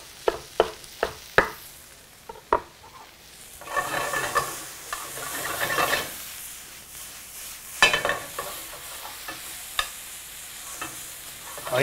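Mixed greens such as spinach, chard and beet greens sizzle in a pan, with steady frying hiss swelling in the middle and sharp utensil taps and stirring clinks scattered throughout; no one speaks.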